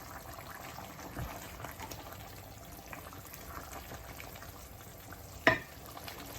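Lamb bhuna frying over high gas heat as it is mixed, giving a soft, steady sizzle with faint stirring scrapes and one sharp clank of a utensil against the pan.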